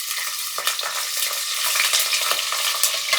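Onions fry in hot oil in a pan, giving a dense, continuous sizzle close by, broken by scraping stirs every so often, with no talking.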